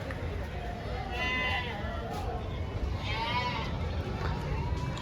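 Goats at the Jiyaguda goat market in Hyderabad bleat several times, some calls near and others farther off, over a busy market murmur with people talking.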